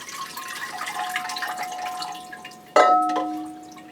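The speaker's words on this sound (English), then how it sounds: "So I water around the edges." Water poured around the edges of an orchid pot: a soft, continuous trickle and splash, then a sudden brighter pour with a ringing tone partway through that slowly fades.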